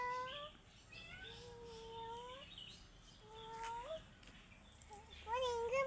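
A domestic cat meows repeatedly and close by, with several drawn-out, wavering meows spaced through the clip and a louder, sharper one at the end over faint background noise.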